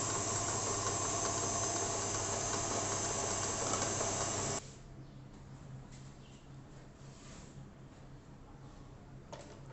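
An electric mixer beats banana walnut cake batter at slow speed, a loud steady whirring drone for about four and a half seconds before cutting off, leaving only faint room noise.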